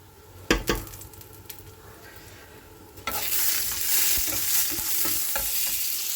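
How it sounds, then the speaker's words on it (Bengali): Lentil dumplings fry in hot oil with dried chilli, bay leaf and nigella seeds, giving a steady loud sizzle. A few utensil clinks and stirring knocks come early, and a stronger burst of frying follows as the dumplings go in. "দিয়ে দেবো ডালের বড়িগুলো। ভেজে নেব সুন্দর করে।"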